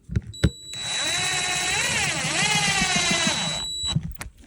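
A power drill driving a screw into a plastic septic tank riser: a loud, close, steady whining motor for about three seconds, pitch dipping slightly as the screw bites, with clicks at start and stop.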